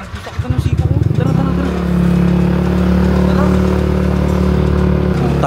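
A motorcycle engine idles and revs up close, with a clattering start that settles into a steady, loud idle running to the end.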